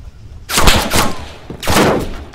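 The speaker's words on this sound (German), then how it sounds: "Unter Beschuss." Gunfire in the Arma III video game, with two loud, close bursts of rapid shots separated by a short pause.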